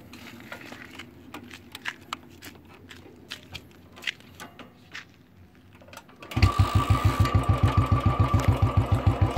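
A Royal Enfield Bullet BS6 motorcycle engine idles quietly with sharp sporadic pops, then revs hard into a loud, rapid, rhythmic stream of exhaust backfire bangs.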